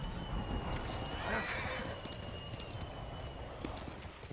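Steady clip-clop of horse hooves at a gallop in the video game Ghost of Tsushima, with an occasional whinny and a faint high whine in the background.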